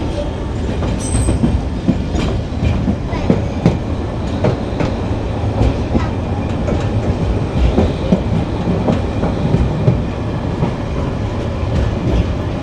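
The Saikat Express runs from Chattogram toward Cox's Bazar with a loud, continuous rumble and rhythmic clickety-clack of wheels on rail joints, plus occasional faint squeals.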